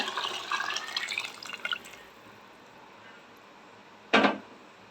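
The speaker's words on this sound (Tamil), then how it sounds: "புளி கரைச்சலை உள்ள சேர்த்துக்கோங்க" Tamarind water is poured into a simmering fish curry, a soft splashing trickle for about two seconds, then quiet, then one brief louder splash.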